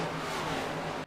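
Engine drone of NASCAR stock cars racing down the back straightaway at Las Vegas in iRacing, a steady loud roar holding for about a second before cutting off abruptly.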